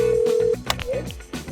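A telephone rings with a steady electronic tone that cuts off, followed by short beeps and faint movement.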